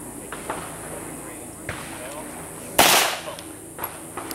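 A .45 pistol fires at a gun range with one sharp, loud report partway through. Softer knocks and faint background voices surround it.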